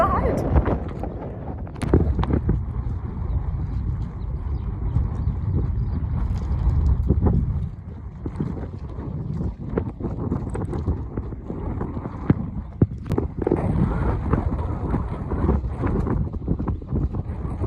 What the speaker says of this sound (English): I am on my camel and my dad and mum on their camels behind.